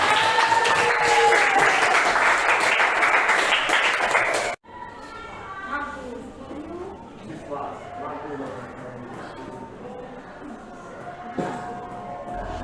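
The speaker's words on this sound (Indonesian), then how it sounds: "tepuk tangan untuk kita semua." Students in a classroom give a loud burst of applause that fills the room for several seconds, then cuts off abruptly as a teacher starts talking.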